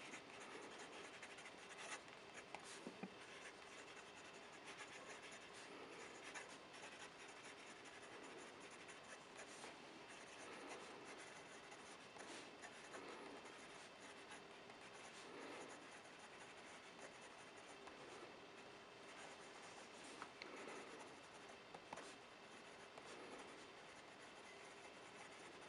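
A Waterman Expert Deluxe fountain pen with a fine nib writes on paper, giving faint, steady scratchy strokes with short pauses between them over a quiet background hiss, no talking.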